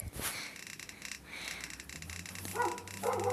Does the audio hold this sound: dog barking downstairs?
yes